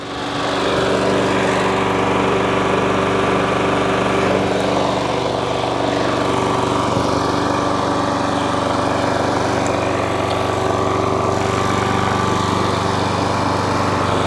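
A self-propelled lawn mower runs with its drive engaged, giving a steady, loud, close engine drone that holds an even pitch from start to finish with no talking.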